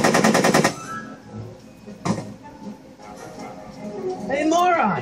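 Gunfire in the Back to the Future adventure video game: a short rapid burst of shots at the start, a single sharp crack later, and voices talking and shouting over the scene.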